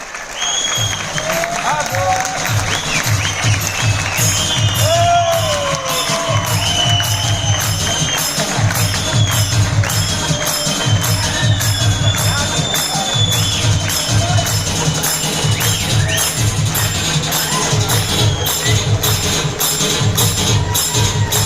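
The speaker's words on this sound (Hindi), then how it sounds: "तो आपकी एक बार जोरदार तालियों के बीच में आई इन्वाइट टू मिस्टर राज काले, प्लीज वेलकम।" Audience at an indoor training event in Mumbai applauds loudly as a speaker is welcomed on stage, steady clapping filling the whole stretch with some cheering and voices mixed in.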